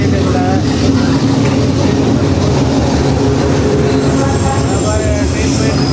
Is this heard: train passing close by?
yes